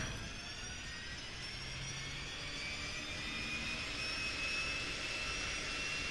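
Real Air Duke Turbine engine in the FSX flight simulator, a steady turbine whine with a continuous broadband roar and rising high-pitched tones, heard alone at an even level throughout.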